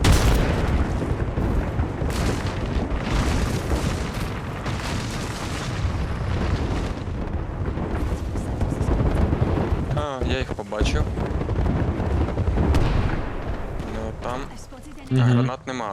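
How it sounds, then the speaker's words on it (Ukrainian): Gunfire and explosions from the video game Apex Legends rumble continuously in dense, loud bursts, with people talking over the battle noise throughout. "Звуки пострілів лунали з усіх сторін"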